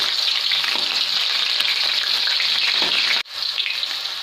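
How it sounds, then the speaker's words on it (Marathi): Green chillies frying in hot oil for nylon sabudana chivda, a loud, even crackling sizzle heard close up that cuts out abruptly for a moment and then resumes. "आता आपण हिरवी मिरची तळून घेऊ यामध्ये"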